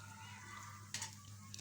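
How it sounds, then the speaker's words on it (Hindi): Whole cumin seeds sizzle in hot oil as a tadka for dal, a faint steady frying hiss with a brief louder crackle burst partway through. "तो ये देखिए कितना ज़बरदस्त सा तड़का रेडी हो रहा है"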